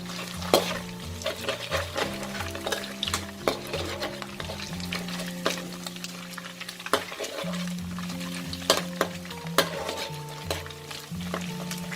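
Flaked fish fries in hot oil for a crispy fluffy fish salad, a steady close sizzle broken by repeated scrapes and clicks of a spatula stirring in the pan, over a soft tonal background melody.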